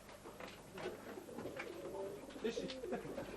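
Racing pigeons cooing in a loft, soft repeated throaty coos overlapping one another, fairly quiet and close.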